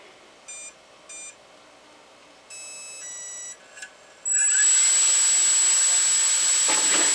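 Tiny quadcopter motor and propellers spinning up to a low idle, a steady bright high-pitched whine starting abruptly and holding close and loud, preceded by a few short electronic beeps.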